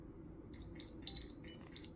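A Trondisc replica identity disc gives its power-on and communicator beeps: a series of short, high electronic tones in an uneven rhythm, clear and close over a quiet low hum.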